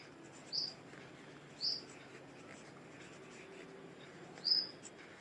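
An answer is written by hand, with three short, faint scratching strokes of a pen on paper set apart by quiet gaps, heard over a low background hum.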